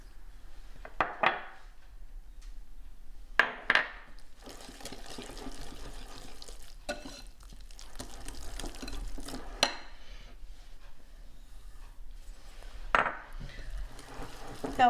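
Pumpkin pie batter is mixed in a bowl, with quiet, scattered stirring and scraping strokes and a few sharper clinks of the utensil against the bowl.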